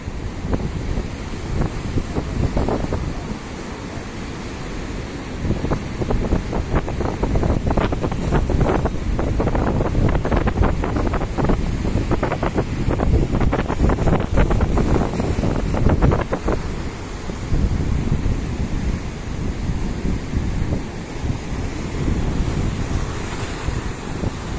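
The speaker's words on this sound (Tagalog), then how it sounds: "malalaki mga alon dito" Large waves, about 4 to 5 feet high, break along the coast of Baganga, Davao Oriental, on the east coast of Mindanao. The surf roars steadily and loudly, with heavy wind buffeting the microphone and no talk.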